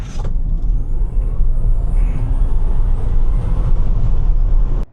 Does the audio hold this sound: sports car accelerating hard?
yes